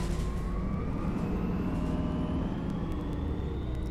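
Steady engine drone of a Heuliez GX327 bus in the driving simulator game OMSI 2, with a rising tone as the bus accelerates, continuous and fairly close with no talking.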